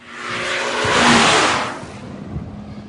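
A Renault Clio accelerates out onto the circuit during a time trial. One close, rising engine rush swells to a peak and then eases away.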